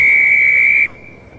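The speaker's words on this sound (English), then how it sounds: "Again, a loud blast. The referee's whistle." A referee's whistle gives one loud, sustained blast at a Glasgow Warriors versus Clovers women's rugby match in the Celtic Challenge, cutting off sharply into faint crowd background.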